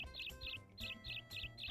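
Birds chirping in Harvest Moon 64, quick repeated twittering bursts in a steady rhythm, faint and close, no talk.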